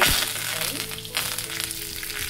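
Mustard seeds and curry leaves hit hot oil for tempering and sizzle loudly in a steady, crackling hiss, with a faint voice underneath.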